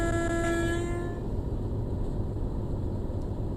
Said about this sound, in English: Love the AWS chime on this one.